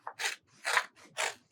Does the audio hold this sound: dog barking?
no